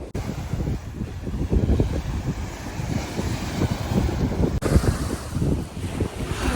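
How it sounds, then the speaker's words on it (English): Rough storm-driven waves surge and wash continuously on the shore of a lake or ocean in Canada, with heavy wind buffeting the microphone into a loud, unbroken roar. "Hear the waves?"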